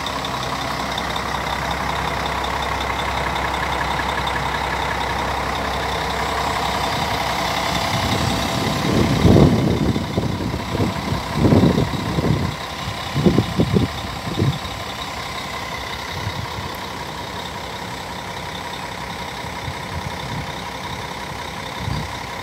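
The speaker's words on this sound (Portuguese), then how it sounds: "Barulho do motor." A Marcopolo Paradiso G7 1800 DD double-decker coach of Viação Novo Horizonte idles with a steady low diesel drone, joined midway by a cluster of louder knocks and revving pulses before it settles back to a constant rumble.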